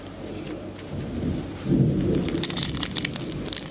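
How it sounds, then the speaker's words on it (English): Thunderstorm outdoors on a hot day: steady rain patter with a deep rolling thunder rumble swelling midway, fairly close and loud, no voices. "A big storm by the sounds of it"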